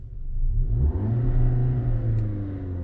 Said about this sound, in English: you mind revving it up and just putting your foot to the floor pretty much and seeing what happens?